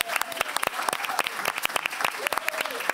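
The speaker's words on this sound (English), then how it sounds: "we can applaud for that." A live audience claps at an interview event on photography and design, producing sharp, close individual claps that build into brisk, uneven applause for a few seconds.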